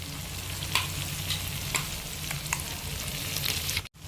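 Ground spice paste fries with softened tomato in a pan for a winter-vegetable khichuri, giving a steady close sizzle with a few light stirring clinks and scrapes, and no voices.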